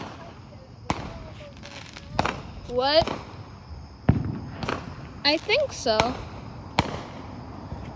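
Fourth of July fireworks going off in repeated sharp bangs and crackling bursts, several close together with whistling rises, while people talk briefly nearby.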